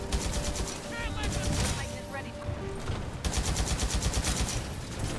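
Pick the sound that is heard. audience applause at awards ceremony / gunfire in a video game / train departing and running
gunfire in a video game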